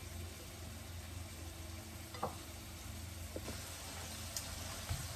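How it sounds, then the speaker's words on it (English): Ground meat cooks in a pan for walking tacos, a faint, steady low sizzle with a few soft clicks and taps of utensils. "The meat's been cooking for maybe 5 or 6 minutes"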